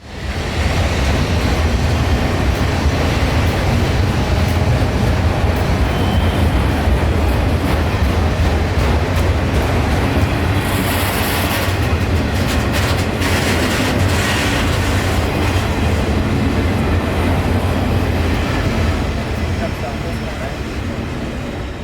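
A freight train, Q455, rolls past at night in Florida with a steady, loud, continuous rumble and roar that fills the whole stretch, with faint rail clatter and a brief brighter hiss partway through.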